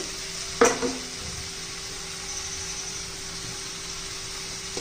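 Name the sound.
sautéing ridge gourd curry with roasted peanut powder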